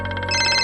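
A phone ringtone rings loud and close, a steady bright electronic tone with a pulsing pattern that shifts to a fuller, denser ring partway through, with no talk.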